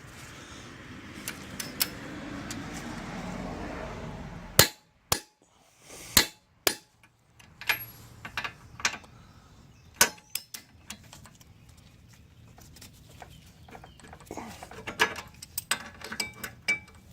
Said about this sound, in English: I'm going to go ahead and get the torque wrench over here